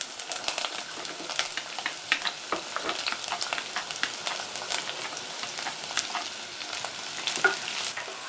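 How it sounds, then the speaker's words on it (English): Asparagus and shallots sautéing gently in oil in a medium pan over low heat, a steady soft sizzle dotted with frequent crackles and light stirring taps, moderately close and without talking. "heat the oil in a medium-sized pan over a low heat, and then add the asparagus and the shallots"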